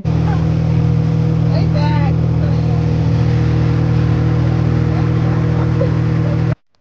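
A boat's engine runs at an eco park, a steady low droning hum that stays loud and constant throughout, with faint background voices and activity over it.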